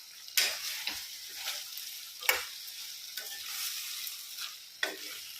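Salted chicken pieces stir and fry in a pan, with a steady sizzle broken by several sharp scraping strokes of the spoon, close and clear with no talk.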